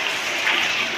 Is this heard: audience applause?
yes